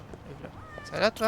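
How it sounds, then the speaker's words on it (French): A cat meows twice in the video game Lost Judgment, two short rising calls that follow quiet French speech from a player talking over the game. "Ah bah c'est un chat."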